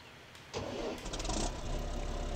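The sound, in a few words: tractor engine in video game Farming Simulator 17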